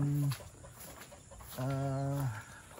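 Chickens being fed bananas give two drawn-out clucking calls, one brief and one longer, close by against a faint background.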